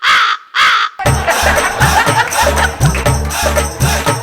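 Two loud, close crow caws open the sound, then a comic music track with a steady beat plays on.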